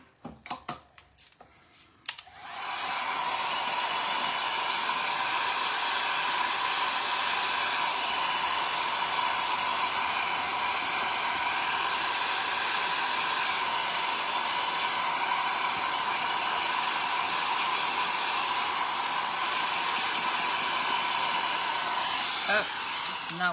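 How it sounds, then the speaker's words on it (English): Heat gun blowing continuously to heat-seal a shabby chic craft riser, a steady loud whooshing hiss that starts after a few seconds of small handling clicks and runs alone to the end. "you can also heat seal this in with your heat gun, so let's go ahead and do that"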